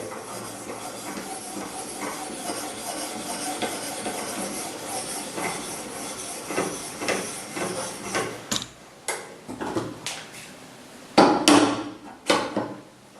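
A hatchet being sharpened with a Kazak Model 10 sharpening device and stones, a steady close rasp of stone on steel that breaks into separate scraping strokes with light knocks toward the end.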